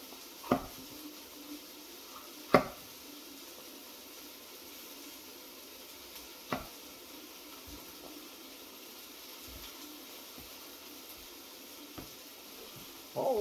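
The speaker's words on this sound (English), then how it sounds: "All those onions are cooking." Onions frying in a pan give a steady, quiet sizzle, broken by a few sharp clinks and taps at irregular moments.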